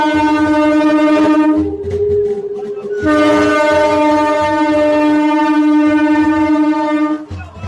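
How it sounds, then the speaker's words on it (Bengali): A garlanded inaugural train departing Jairambati railway station for Bankura sounds a loud, sustained horn, close by, with a brief break before the horn resumes and holds over the rumble of the rolling train. "জয়রামবাটি থেকে প্রথম ট্রেন ছুটে গেল বাঁকুড়া"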